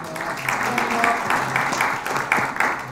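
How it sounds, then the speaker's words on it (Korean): An audience at a political forum applauds in close, continuous clapping with some voices mixed in. "좋은 말씀해주신 원유철 의원님께 저희들 다시 한번 큰 박수 부탁드립니다."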